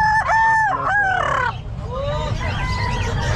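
A rooster crows loudly nearby at a pet market in Calumpit, a long strained call with a wavering tone, followed by softer clucking against a noisy outdoor background.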